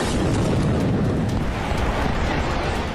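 Missile launches and explosions during an Iranian attack rumble as a loud, continuous, heavy roar with deep booming low end and scattered bursts over three seconds.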